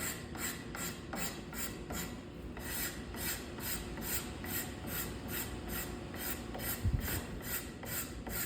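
Hard scraper dragged repeatedly across a wooden furniture leg being pillowed, a close, rhythmic series of rasping strokes, about two per second, evenly paced throughout with no talking.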